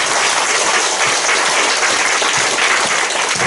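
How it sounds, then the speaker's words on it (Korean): Loud, dense applause from a large audience at a commemorative ceremony for a publication launch held in a church, continuous clapping for about three and a half seconds. "한번 큰 박수로 서로 격려하시고 넘어가겠습니다."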